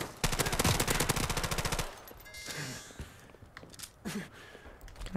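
Automatic gunfire rattles in a rapid, dense burst in Modern Warfare Remastered, followed by scattered shots, footsteps and gasps from the game.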